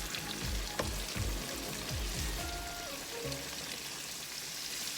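Pork chops for a Southern-style smothered dinner sizzle as they fry in a hot pan, giving a loud steady crackle with scattered pops and bursts of spattering throughout.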